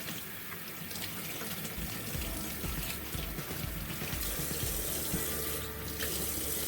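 Running tap water splashes steadily over salted cabbage as it is rinsed for kimchi, a continuous close hiss with irregular spatters from the leaves moving under the stream.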